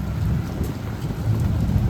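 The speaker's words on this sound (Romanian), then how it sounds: "Noi în Bruj am avut parte doar de ploaie." Steady rain in Bruges, Belgium, with a low rumbling wash underneath, continuous and fairly loud throughout, no voices.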